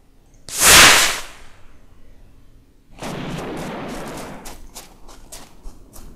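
Call of Duty bazooka and gunfire: one loud booming blast, a short lull, then a dense rattling stretch of rapid shots with sharp cracks, loud and close.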